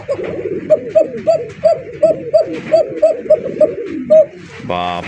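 Pigeons of fancy and racer breeds, kept for sale, coo close by in a quick rhythmic series of about a dozen throaty calls, loud against quiet surroundings, with people talking nearby.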